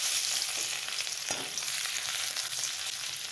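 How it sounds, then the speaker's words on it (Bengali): Chopped garlic sizzles in leftover fish-frying oil while chilli fish is being made, a steady close frying crackle with faint stirring and no talk. "মাছ ভাজার তেলটার মধ্যেই দিয়ে দিচ্ছি রসুন"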